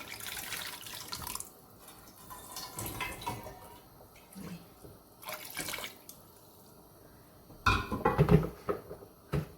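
Water splashes and gurgles into a cooking pot of chicken haleem in bursts, with a louder pour near the end, close and alone without talk.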